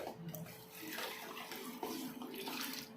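Water is poured into a vessel over wheat while preparing halwa, a faint steady splashing and trickling stream lasting a few seconds, close up.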